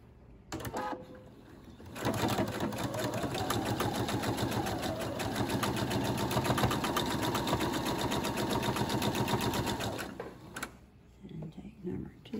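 Sewing machine chain-stitching quilt pieces at a quarter-inch seam runs in a steady fast whirring rattle for several seconds, starting and stopping cleanly, close and fairly quiet.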